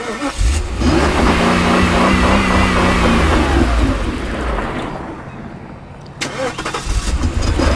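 A 1992 Mercedes 500SL R129 roadster with a 5.0L V8 cranks and fires, then holds a loud close idle. The engine note sags and cuts out before the V8 catches again near the end.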